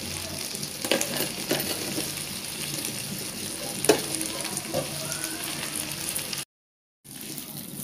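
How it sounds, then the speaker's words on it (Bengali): Thick-cut potatoes sizzling steadily in hot oil for a Bengali potato dish, a dense continuous frying hiss with occasional clinks, close and fairly loud, with a brief dropout near the end. "আমি তেলের মধ্যে এটা একটু ভাজা লইছি, দেখেন একটু সনসন আওয়াজ করতেছে"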